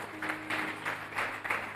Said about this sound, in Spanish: ¿Cuánto dan un aplauso a eso?